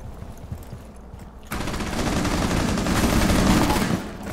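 Gunfire in Rainbow Six Siege, where a quiet stretch breaks into a loud, sustained burst of rapid automatic shots that runs for several seconds before tapering off.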